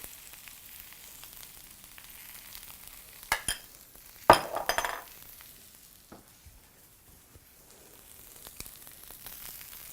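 A spoon spreads tahini truffle oil dressing across a plate, making a few brief, close scraping swipes in the middle of the clip. A faint background hiss runs underneath throughout.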